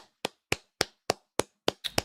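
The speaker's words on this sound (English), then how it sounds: "you can hear the clap." Sharp hand claps, seven in quick succession at an even pace, close and crisp with short decays; the last two land closer together.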